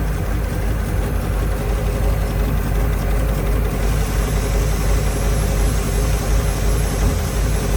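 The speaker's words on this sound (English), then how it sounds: "we have taken the engine and gotten the exhaust put on, and it runs so much quieter now" A flathead engine with dual carburetors and exhaust fitted idles at a constant low rumble, smooth and even throughout with no voices.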